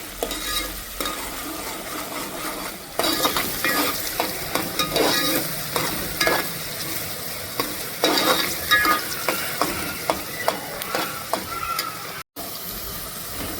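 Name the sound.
onions frying with curry leaves until golden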